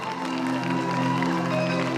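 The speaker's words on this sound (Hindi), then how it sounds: "चलो मैम के लिए एक बार तालियां बजा दीजिए आप" An audience applauds at a stage show at the Bhuru Nag Devta fair in Chamba, a steady, even wash of clapping and crowd noise with sustained tonal hum underneath.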